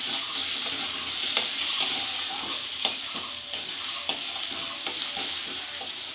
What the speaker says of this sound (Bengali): এই ধনে পাতাগুলো এবার এর উপরে দিয়ে দিলাম, দিয়ে এক মিনিট নাড়াচাড়া করব।